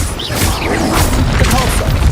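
Expelliarmus spell cast in Hogwarts Legacy, a loud magical boom and crackling blast with swishing effects, dense and sustained, with a voice speaking over it.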